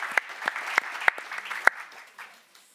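An audience at a start-up day event claps and cheers together, a busy patter of hands with a few sharp, loud claps standing out before the applause thins and fades toward the end.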